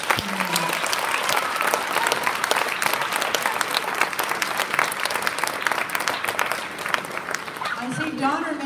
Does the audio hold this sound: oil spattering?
no